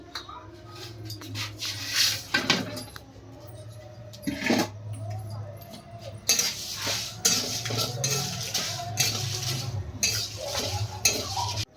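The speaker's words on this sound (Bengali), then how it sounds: "শুকনো খোলায় কড়া মশলা ভেজে নেব" Cumin, dried chili and coriander dry-roast in a pan with a faint crackle, while a spoon scrapes and knocks against the metal in irregular bursts, up close.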